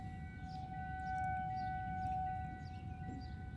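A civil defense tornado siren sounds during a test in Grosse Pointe, Michigan, running in attack mode with a steady held wail that swells slightly and then eases, heard outdoors at a distance over low rumbling background noise.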